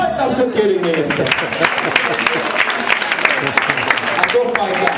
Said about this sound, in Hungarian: Nagy tapsot kérünk még egyszer!